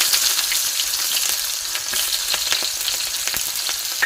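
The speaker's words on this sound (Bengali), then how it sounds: "কড়াইতে তেল দিয়ে দিচ্ছি, আর পেঁয়াজ কষা আর কাঁচা লঙ্কা কাটা কিন্তু দিয়ে দিচ্ছি" Chopped onion and green chili fry in hot oil in a wok. The sizzle is loud, close and continuous, with occasional stirring scrapes and no voices.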